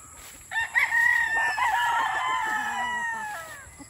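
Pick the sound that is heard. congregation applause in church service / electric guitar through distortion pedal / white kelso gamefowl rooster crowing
white kelso gamefowl rooster crowing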